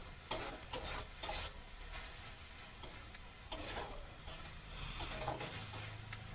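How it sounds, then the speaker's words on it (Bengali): Ingredients for Bengali aloo dum (potato curry) are sautéed together in oil in a pan, with bursts of brisk spatula scraping and stirring over a low, steady sizzle, close up and without speech. "এবার এই সব কটা একসঙ্গে ভালো করে কষিয়ে নেব।"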